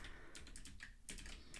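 Quiet clicking bursts of typing on a computer keyboard, with rapid keystrokes in short runs and a brief pause in the middle.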